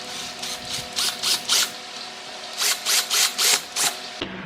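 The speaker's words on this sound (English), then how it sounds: "I reamed the hole a little bit. Actually, I used a 15/16 drill bit" A drill with a 15/16 bit reams a hole for a Jeep Gladiator cold air intake, whirring in short repeated bursts, two groups of rhythmic grinding pulses close by, with a brief pause between them.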